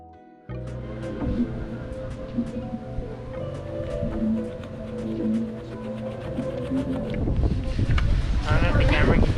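Strong wind blows outdoors and buffets the microphone in a continuous rushing roar that grows louder toward the end, with people talking over it.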